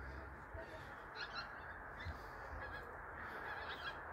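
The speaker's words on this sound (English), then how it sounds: "Geese, and there'll be more. Boxing Day geese." Geese on Boxing Day give several honking calls that repeat in short bursts. They sound faint and fairly distant over a soft outdoor background.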